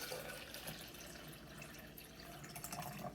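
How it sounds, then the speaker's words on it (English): Water is poured into a plastic blender bottle, making a soft, continuous trickling and splashing that stays quiet and steady throughout, with no voices. "I put about 12 ounces of water in a blender bottle."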